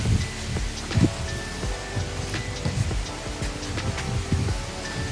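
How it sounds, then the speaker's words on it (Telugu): Steady roar of strong cyclone wind with broadband rushing noise, storm gusts and rain during Cyclone Montha, continuous throughout with a few louder gusts. "విజృంభిస్తుంది అనమాట తుఫాను"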